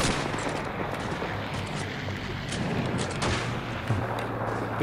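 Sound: gunfire in the video game Call of Duty 2

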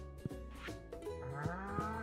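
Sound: cows mooing in Stardew Valley video game

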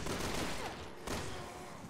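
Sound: gunfire in the video game Resident Evil 6

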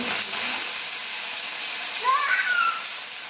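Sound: mangoes, dried chillies and mustard frying and stirred in pan

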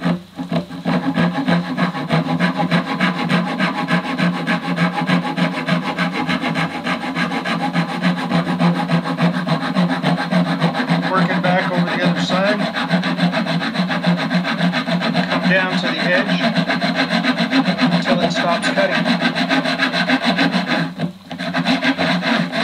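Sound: hand saw cutting fret slot in violin fingerboard with jig

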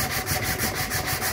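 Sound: sandpaper rubbed over a wooden paddle shaft by hand

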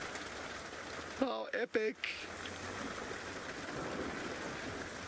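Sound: heavy steady rain downpour

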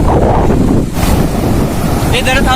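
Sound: ocean waves at a beach

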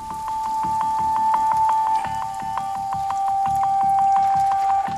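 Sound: rain falling in the Amazon rainforest

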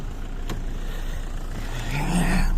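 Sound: Opel Vectra diesel car engine revving

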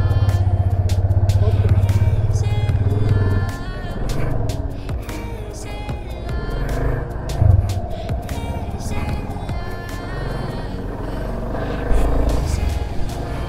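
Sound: motorcycle riding on a trail

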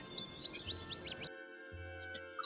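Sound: birds singing in the forest

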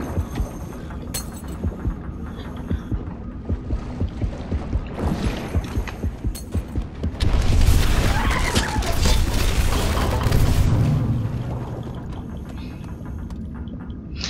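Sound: boom ball explosion in the video game Depth

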